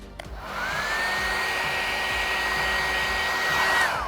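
A heat gun warming vinyl wrap film on a Cybertruck, switching on after a brief click and then blowing with a steady, loud, close whirring roar and a high motor whine that holds for several seconds before starting to fade.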